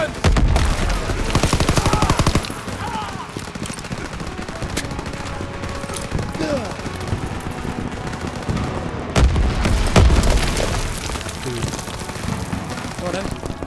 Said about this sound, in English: Sergeant, suppressive fire now!